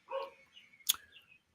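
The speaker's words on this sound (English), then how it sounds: "that dog is, I hope you all don't hear that as much as I do." A dog barks in the distance a couple of times, faint and brief, with other quiet background noise.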